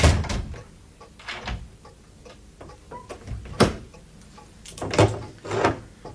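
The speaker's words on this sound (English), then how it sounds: "I shall lock and bolt the door once you're outside" Door being locked and bolted, a series of sharp clacks, thuds and metallic clicks spaced irregularly, fairly close, with quiet pauses between them.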